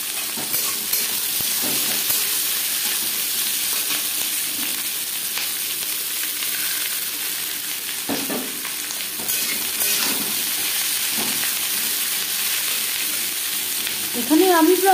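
About 400 grams of chopped onions frying in hot mustard oil with bay leaves, making a loud, constant sizzle throughout, with occasional stirring scrapes and a sharper burst of bubbling near the end.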